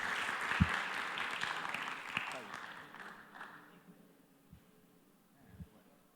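Applause from a church congregation welcoming a speaker to a Bible reading session, a broad wash of clapping that fades over several seconds, with a few isolated claps and some voices in the background.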